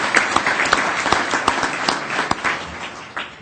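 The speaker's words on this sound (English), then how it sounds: "A round of applause for these folks looking at employee ownership." A conference audience at an employee ownership gathering applauds, a full steady patter of many hands with a few sharp, distinct claps standing out near the front.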